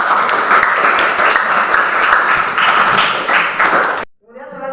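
Applause for a student group in a classroom, a loud dense clapping that runs steadily for about four seconds before cutting off, followed by a brief voice.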